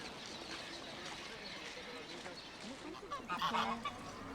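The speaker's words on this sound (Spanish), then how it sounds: "La banda sonora omnipresente es el canto de los pájaros." Birds call beside the river in Mérida, Spain, a steady layer of chirps over outdoor ambience, rising into a louder cluster of calls near the end.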